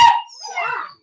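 Cane Corso puppies give a short whimpering bark followed by a thinner, higher whine, close and fairly loud, with no talk over them.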